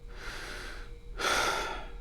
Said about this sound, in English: Just by that breathe in, you know what I'm going to say next is something that I'm surprised, shocking, is more emotionally intense.